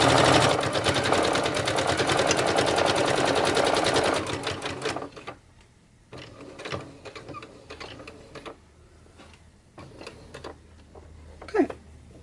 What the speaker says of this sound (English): so we're just going to sew straight down this line.